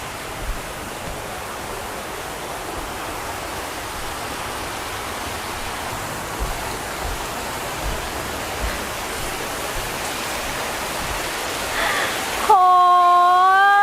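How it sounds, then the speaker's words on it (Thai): Waterfall at a resort in Muak Lek, Saraburi: a dense, even rush of falling water roars steadily for about twelve seconds. Then a brief tonal whistle-like sound cuts in at the end. "ข้างหลัง จะเป็นน้ำตกสวยเนาะ แล้วก็น้ำใสมากค่ะ"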